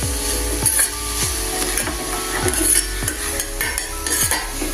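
Carrot stir-fry for a carrot-and-egg poriyal being stirred in a pan, a utensil scraping in steady repeated strokes over a low background hum, close and fairly loud with no talking.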